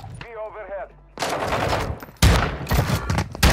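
Shotgun blasts in Warzone 2, a few heavy booming shots with short gaps between them, loud and close.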